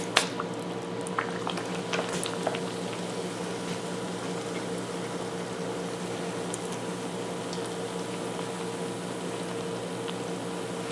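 Fry bread dough sizzles in hot oil in an electric skillet turned all the way up, a soft continuous crackle and bubbling hiss with a few sharper pops early on, quiet and close.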